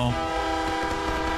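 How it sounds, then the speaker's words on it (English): A train rumbles steadily past in a video game, its horn or whistle sounding as a sustained tone over a loud continuous roar, close and filling the whole moment, with no one talking. "Train scared me for a minute"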